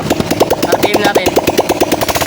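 Kawasaki KLX 150 motorcycle engine running after a crankshaft overhaul, heard up close with rapid, evenly spaced firing pulses that hold a steady beat throughout.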